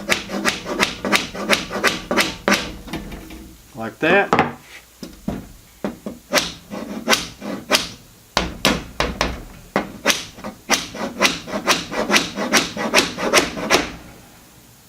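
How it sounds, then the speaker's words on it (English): A hammer taps a nail, held in pliers, into a wooden window frame while the hammer rests against the glass and tape of a garage door window. Rapid, sharp close knocks come in bursts with brief pauses, and someone speaks briefly. "Put your hammer against the glass,"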